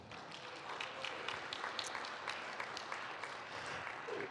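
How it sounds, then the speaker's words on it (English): A room full of people applauding at a 1 Million Cups startup event in Kansas City: a dense, even patter of clapping hands that holds steady throughout at moderate, somewhat distant loudness. "a round of applause for them"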